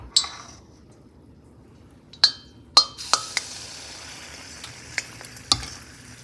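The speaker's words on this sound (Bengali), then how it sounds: "তো বন্ধুরা সব পিঠেগুলো আমার ভাজা হয়ে গেছে।" Pithe cakes frying in a pan, with a low continuous sizzle under several sharp clinks and scrapes of a utensil against the pan, irregularly spaced, and no voices.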